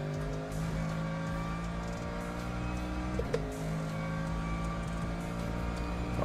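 An Alfa 156 with a Busso engine in a racing video game, a sustained, smooth engine drone holding steady revs with a brief blip midway, loud and with no talking.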